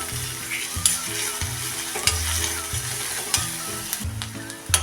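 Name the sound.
onions and curry leaves frying in a pan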